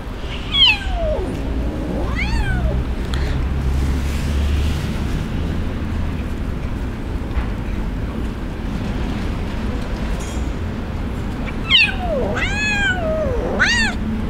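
An abandoned kitten on the street cries with high, plaintive meows in short bursts at the start and again near the end, over a steady low rumble of wind and background noise. No one speaks.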